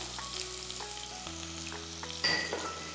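Sliced ginger drops into onions frying in a pan for mutton stew, giving a steady close sizzle with a brief louder crackle near the end.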